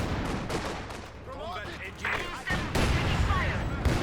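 Heavy mortar barrage in a Company of Heroes 2 multiplayer match on a frozen map, with a continuous roar of explosions and gunfire and heavier booming blasts near the end, while a commentator talks over the battle.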